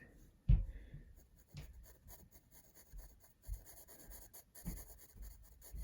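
A pencil shades basic forms on paper with soft, faint, scratchy strokes, heard up close in a quiet room with no talking.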